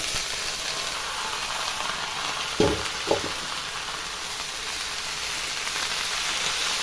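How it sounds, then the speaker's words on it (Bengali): Rice frying with boiled jackfruit and potatoes gives a steady, close sizzle throughout, broken by two brief stirring knocks near the middle. "এই দিয়ে সামান্য নাড়াচাড়া করে ভেজে নিতে হবে।"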